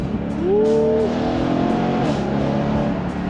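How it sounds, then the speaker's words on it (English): A BMW E93 M3 convertible engine revs sharply on a downshift, a rising blip that quickly settles into a loud, steady drone, with no one speaking over it. "like throwing downshifts, do another one, a downshift"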